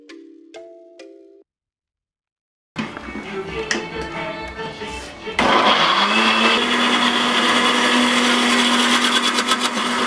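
Capsicum being blended for biryani pilau: after a few short electronic tones and a pause, an electric blender starts with a whirring drone, then revs to a louder, steady high-pitched roar that runs to the end.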